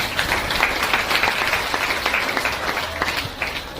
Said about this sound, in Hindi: और एक बार जोरदार तालियां